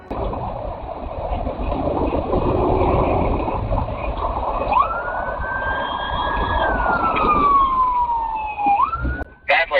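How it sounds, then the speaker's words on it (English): A police car siren wails and sweeps in pitch during a high-speed chase, over steady engine and road noise, fairly loud and close, with a sharp break near the end. "troopers located the vehicle and activated their sirens"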